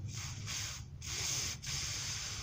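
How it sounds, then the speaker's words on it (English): A can of spray adhesive hisses in three or four steady bursts separated by short gaps, close by and fairly quiet, with no talking. "take your spray adhesive"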